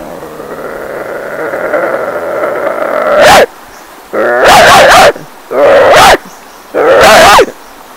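A man imitates a village dog with his voice: a low, rising growl lasting about three seconds, then four loud, close, separate barks.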